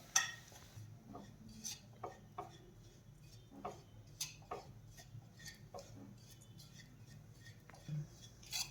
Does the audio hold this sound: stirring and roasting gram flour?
yes